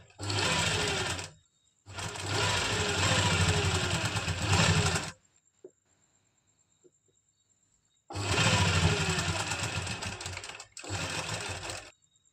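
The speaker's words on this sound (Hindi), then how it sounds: "यहाँ पर हमारा जो ये पॉकेट का फैब्रिक है इसको हम प्लाजो के फैब्रिक के साथ स्टिच कर देंगे।" A sewing machine stitches pocket fabric onto palazzo fabric in loud, close bursts of fast, even whirring: two runs, then a pause with faint handling clicks, then two more runs.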